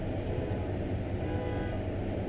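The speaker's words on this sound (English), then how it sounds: "Somebody's having a honking contest outside" Car horns honk outside a room, heard faintly and muffled through walls as a sustained tooting, with no speech over it.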